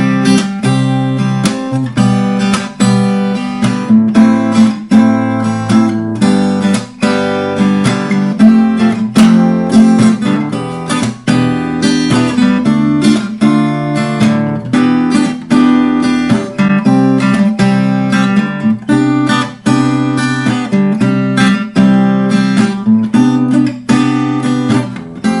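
Guitar strums through the verse chord sequence of a song in a steady, continuous rhythm, loud and close, with dense rhythmic strokes and no voices.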